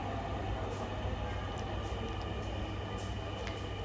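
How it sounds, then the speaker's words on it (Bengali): Dhaka metro rail train standing at a station, a steady broadband rumble and hum of the train and platform with faint high whines and ticks, continuous and fairly quiet; voices may murmur faintly underneath. "এটা হচ্ছে সেই মেট্রো রেল"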